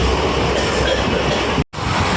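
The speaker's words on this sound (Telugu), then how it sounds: "ఇప్పుడైతే మన ట్రైన్ అయితే 90 to 93 అలా వెళ్తుంది ఆ స్పీడ్లో" The Ballari-Hosapete DEMU passenger train runs at speed with a loud, dense, continuous rumble and wheel roar from onboard, broken by one sharp momentary dropout near the end.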